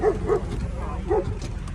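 Dogs inside a car at a Border Patrol checkpoint give a few short, muffled barks and yips, three quick bursts under a voice.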